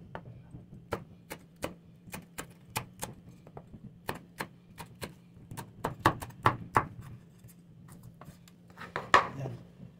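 Knife chopping through two medium onions cut lengthwise on a board, prepared for paksiw na banak (mullet): a steady run of about twenty crisp, close taps with a few clattering knocks near the end.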